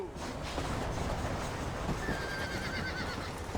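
A horse neighs in Red Dead Redemption, a drawn-out whinny over hoof clops and outdoor game ambience, fairly close and clear.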